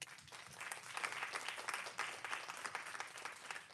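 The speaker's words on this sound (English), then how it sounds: "So just one more time, applaud these folks." A school district board meeting audience gives a round of applause, a soft, steady patter of many hands with gentle surges, heard at a distance and fairly faint.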